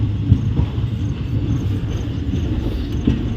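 Onboard a passenger train traveling from Tirupur to Nagercoil, a steady low rumble of running wheels and carriage fills the space, loud and continuous with faint rhythmic knocks and no voices.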